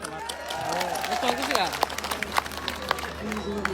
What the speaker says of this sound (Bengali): তাদের উদ্দেশ্যে একটা করতালি